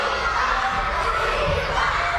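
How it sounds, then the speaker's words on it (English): Elementary school children screaming and cheering together in a crowded lunchroom, a loud, continuous wall of high excited voices with no pauses. "Sandwiches in hand, screams at the top of their little lungs."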